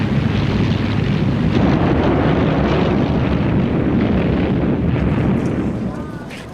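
Heavy, continuous rumbling roar of a Luftwaffe bombing raid, with explosions and aircraft noise blending into a dense, loud wash that eases slightly near the end.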